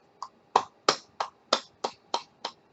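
Hands clapping with slightly cupped palms, eight crisp hollow claps in a steady, even rhythm, close and fairly loud with short decays and no talking.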